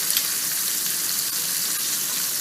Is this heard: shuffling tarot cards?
no